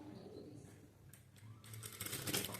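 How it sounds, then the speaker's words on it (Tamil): Sewing machine stitching blouse fabric, heard as a soft, fairly faint whirring and clattering run that grows busier and louder toward the end, with a quiet voice faintly present. "இங்கேருந்து இந்த கிராஸ்லேருந்து இந்த கிராஸ் வந்து தைச்சுக்கிறேன்"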